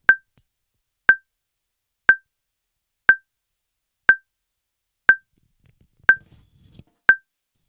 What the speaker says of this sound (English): So our metronome is going at 60 BPM